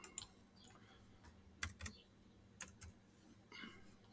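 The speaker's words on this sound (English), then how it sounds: "We're just going to type it in." Coordinates being typed on a computer keyboard, a handful of faint, close key taps in small clusters with quiet gaps between them.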